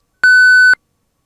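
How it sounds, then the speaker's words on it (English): A single clean electronic beep from a Chamberlain garage door opener during Wi-Fi setup, short and steady, alone. "You're going to hear a series of beeps."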